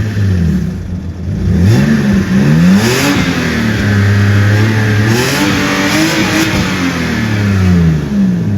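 A cheap BMW car engine revs repeatedly, close and loud, climbing and falling in several throttle blips over a steady idle, with no talk over it.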